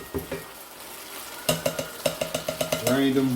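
Drained Great Northern beans land in a hot skillet for fritters; a rapid series of metallic spoon taps and scrapes rings out over a low sizzle, followed by a brief voice.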